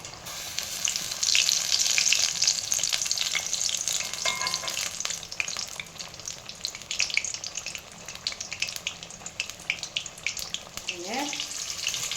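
Stuffed chilli bajji fry in hot oil with a steady close hiss and crackle, fading slightly over time, with a short clink of a utensil near the end and no talk.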